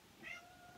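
A cat gives a single short, faint meow, heard alone with no talking around it.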